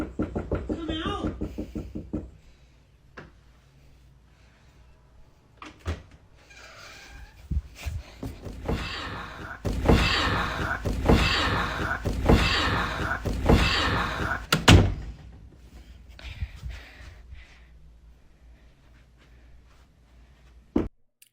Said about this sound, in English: the door sounded like this?